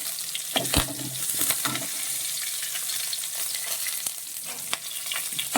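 Red chillies and curry leaves crackle in hot oil with frying onions for a tapioca dish, a dense continuous sizzle with spatula scrapes and clicks near the start, close up and without talk.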